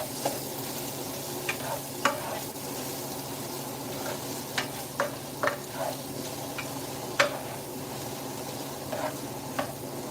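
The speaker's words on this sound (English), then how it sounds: "I'm gonna go ahead and give this all a little stir" Philly cheesesteak pasta being stirred in a pan, a low continuous sizzle with scattered soft clicks and scrapes of the utensil, fairly quiet and without talk.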